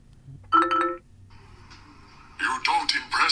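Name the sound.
Kodokan ringtone on OnePlus 15 phone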